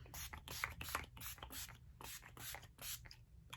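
Quiet, rapid hisses from a bottle of makeup setting spray, about ten short pumps in an uneven rhythm, close by.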